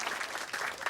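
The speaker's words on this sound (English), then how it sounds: "Come on, give her a round of applause for trying." Audience applause at a live monologue performance, a short burst of steady clapping from a crowd, moderately faint and without talk.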